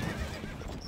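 Horse neighing and whinnying in the strategy game Stronghold: Crusader, a short close cry with faint hoof clatter beneath, loud and steady for under a second with no talk.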